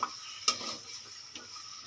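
Chicken being stirred and fried in a pan while cooking down a Bengali chicken kosha, with a few sharp spoon scrapes over a quiet, steady sizzle; no talking.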